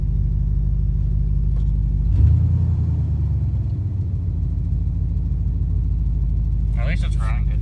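The engine of a 1992 Ford Bronco plow truck idles with a steady, loud, low rumble heard from inside the cab, and it swells briefly once. A voice speaks near the end.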